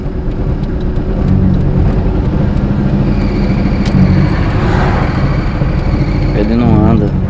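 A car engine strains and revs on a road without the car moving, a loss of power with smoke; a steady mid-pitched drone holds throughout, and voices talk over it.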